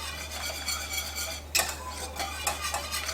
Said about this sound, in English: stir this